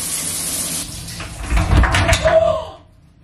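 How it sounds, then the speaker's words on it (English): Water running in a home shower, a steady hiss that swells and splashes for a couple of seconds before cutting off, with a knock like a door or cupboard. "I'm gonna have a quick shower."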